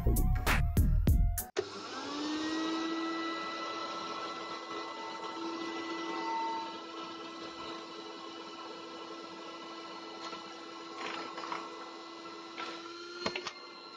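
A vacuum cleaner fitted with a DIY cyclone dust separator switches on after a few short knocks and runs with a steady, loud whine and airy rush until the end.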